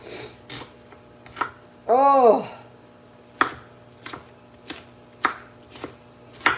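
Onion sliced with a knife on a cutting board: a series of sharp, close chops at irregular intervals, broken once by a brief sliding scrape, with a single short exclamation from a voice.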